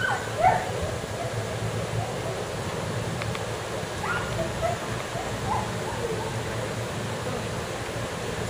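A dog gives a sharp bark early on, followed by a few faint whimpers and yips over steady background rush, with occasional low voices.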